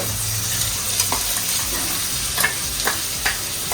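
Tomato puree sizzling with onion in a pan, a steady close hiss of frying with occasional soft spatula scrapes and pops throughout.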